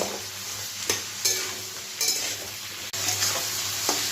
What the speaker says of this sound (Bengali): এবারে এই পেঁয়াজটাকে আমি আলুর সাথে ভালো করে ভাজা করে নেব।